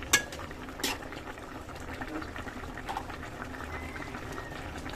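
Curry bubbling in a pot on a home stove, a steady close simmer with soft popping bursts and a couple of sharper clinks near the start, no voices.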